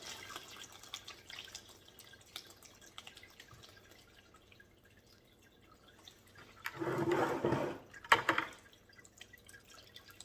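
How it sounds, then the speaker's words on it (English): Water is dumped out of a Lot-O rock tumbler barrel with rocks inside, first faint drips and small splashes, then two loud gushing pours close by, the second shorter, with no talking. "cover the barrel with your fingers and just dump all the water out so there's no standing water"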